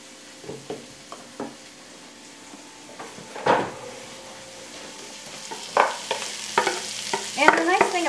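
Chopped zucchini cooks in a pan for a frittata: a soft, steady sizzle with scattered utensil clicks and scrapes from stirring, close by and with no talking.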